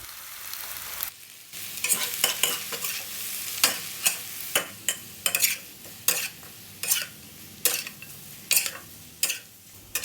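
Glass noodles and cabbage stir-fried in a pan, with a steady sizzle under repeated sharp scrapes and clacks of the spatula, closely miked.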